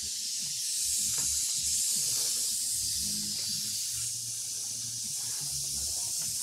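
DIY tubeless tire inflator dumping compressed air at about 120 psi to seat a tire bead, a loud steady hissing rush that fills the clip from start to finish, with a low rumble underneath.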